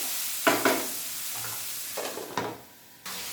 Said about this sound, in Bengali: এবার আমি ভালোভাবে নাড়িয়ে নিলাম